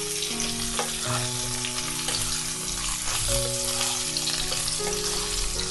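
Pointed gourd (potol) sizzles in oil in the pot for a light Bengali fish curry with vegetables, a dense, continuous frying hiss with faint stirring underneath and a low steady hum, close and with no talking.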